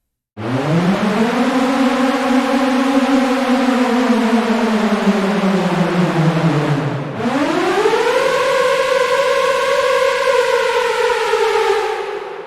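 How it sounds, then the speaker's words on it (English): A loud synthesized horror siren from an Arturia Pigments 4 preset wails in two long rising-and-falling sweeps, harmonically rich and eerie, sustained without pause. "moving on from that one, we have the siren"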